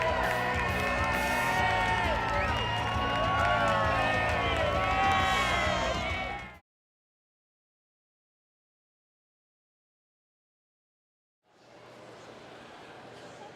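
A fired-up crowd cheers and roars loudly at a Las Vegas fight event for several seconds, then cuts to silence before a quieter stretch of crowd noise returns.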